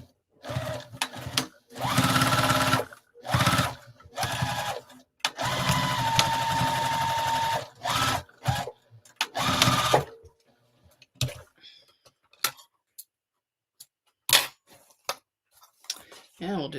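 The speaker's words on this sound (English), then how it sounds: "Oh, I need to do that at a smaller stitch length or those are going to pop right off. So I'm going to sew over that again." A sewing machine stitches a zipper pouch in several fast whirring runs of a second or two each, broken by brief pauses, then quieter clicks and handling near the end.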